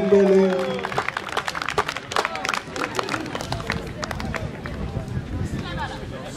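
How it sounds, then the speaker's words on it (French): Audience at an African cultural festival bursts into applause after a voice speaks briefly; dense clapping and crowd murmur continue throughout. "Est-ce qu'on peut applaudir sous un tonnerre d'applaudissements Madame Valence Mbele"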